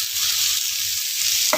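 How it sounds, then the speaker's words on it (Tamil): Onions sautéing in a hot pan with curry leaves and coriander leaves while making pumpkin oats rava dosa, giving a steady close sizzle and crackle throughout, with a brief stir or scrape right at the end. "இந்த வெங்காயத்தை போட்டு நல்லா வதக்கி வைக்காங்க."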